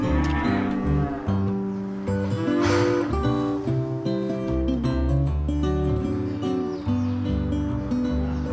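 Cows and calves on a dairy farm pasture moo repeatedly, with several long, overlapping lowing calls close by and no one talking.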